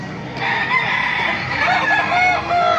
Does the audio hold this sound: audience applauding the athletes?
no